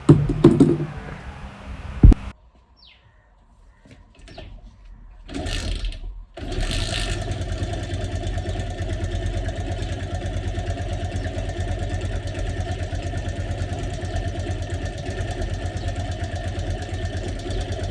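A motorcycle engine idles after its carburettor has been cleaned and adjusted, first sputtering and dropping off briefly, then settling into a steady, even putter that runs on close by.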